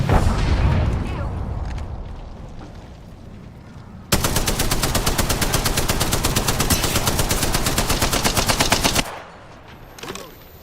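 Rapid automatic gunfire in a fast-paced online shooter game, loud and sustained in one long continuous burst, preceded by other shots and game noise, then cutting off abruptly into quieter sounds.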